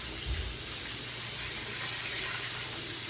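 Cold tap water runs steadily into a kitchen sink to cool a burn while cooking pudding, a constant broadband hiss with a low splash near the start, close and fairly loud, with no voices.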